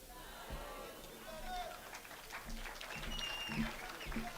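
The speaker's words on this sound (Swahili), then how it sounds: "Makofi mazuri kwa the people's poet" Crowd applause at the launch of a politician's new PLP political party, with sustained clapping and cheering from a large gathering under a speaker's amplified voice.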